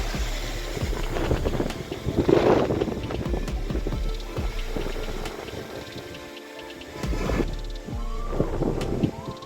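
Strong, gusty wind from Cyclone Montha in Pedana, Krishna district, buffets the microphone in heavy rumbling bursts, rising and falling throughout with occasional rattling and knocking.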